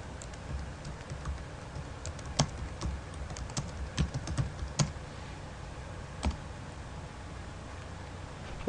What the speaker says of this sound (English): Let's go to Google and type in Gig Harbor real estate.